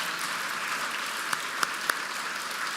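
Audience of donors applauding at a charity fundraising brunch, steady dense clapping throughout with a few sharper claps standing out near the end.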